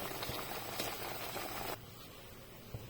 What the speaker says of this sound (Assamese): এয়া পানী দিলোঁ চব ইয়াতে